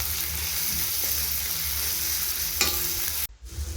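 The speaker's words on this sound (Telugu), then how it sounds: "ఉల్లిపాయలు ఇలా ఫ్రై అవుతున్నప్పుడు" Sliced onions with a spoonful of salt frying in a pan for an Andhra-style chicken and drumstick curry, a steady close sizzle with light stirring scrapes, cut off abruptly near the end.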